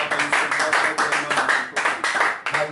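A church congregation claps in a rhythmic, fairly regular beat of roughly four claps per second, moderately loud and continuing throughout.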